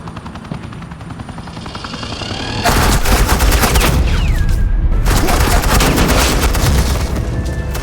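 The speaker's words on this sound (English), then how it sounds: "suppressing fire" Suppressing gunfire from Agent Quinn's squad in Batman: The Enemy Within, the Telltale Series game on Xbox. A dense, loud, sustained barrage erupts after a quieter opening, with rotor-like helicopter noise underneath.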